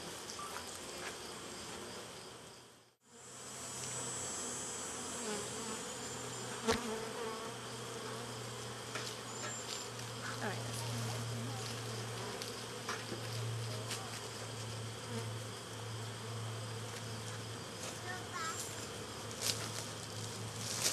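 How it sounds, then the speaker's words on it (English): Bees buzz steadily nearby, a continuous droning hum with individual insects passing close, after a brief gap near the start. "These guys are very gentle bees."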